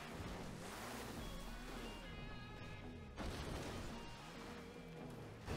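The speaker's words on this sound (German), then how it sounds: "Ist auch ganz gut für den Wagen, wenn man durchs Wasser fährt" Car driving through water in a German-language video game: a steady, full wash of splashing and rushing water, loud and close, with a surge near the middle.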